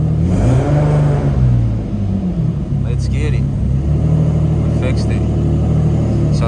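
Infiniti G37 engine revving after a P1093 limp-mode fix, a loud rising and falling rumble heard close, with someone talking over it.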